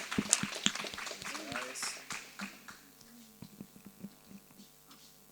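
Scattered classroom applause for a student named Elena, quick uneven claps under a voice, fading to sparse single claps over a low background hum.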